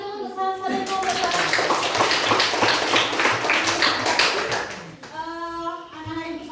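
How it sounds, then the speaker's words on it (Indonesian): A classroom of students claps for the first presenting group, a few seconds of dense, steady applause close by, with voices talking before and after. "tepuk tangan dulu untuk salah dari kelompok 1"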